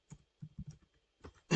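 A few soft clicks of computer keyboard keys sound alone in a quiet room, spaced irregularly, with a slightly louder keystroke at the end.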